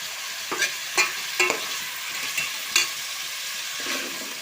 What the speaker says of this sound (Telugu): సాల్ట్ వేసి ఆనియన్స్ ఫ్రై అవ్వాలి కదా.